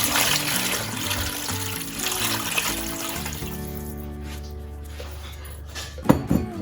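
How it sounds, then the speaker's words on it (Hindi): Water poured into nihari masala in a cooking pot, a steady liquid trickle and splash lasting several seconds with a brief louder splash near the end, no talking. "अब हम इसमें पानी शामिल करेंगे।"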